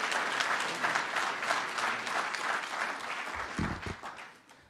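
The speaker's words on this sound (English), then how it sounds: "give him a big round of applause as he comes up" An audience applauds as a speaker comes up at a DC Infrastructure Academy launch event, dense clapping that holds steady and then fades toward the end, with a few low thumps near the close.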